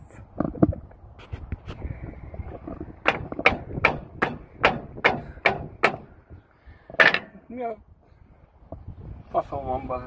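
Hammer blows ring out on metal while a manure spreader is being fixed. About ten sharp, evenly spaced strikes land close by, with a few scattered knocks before them and someone talking between them.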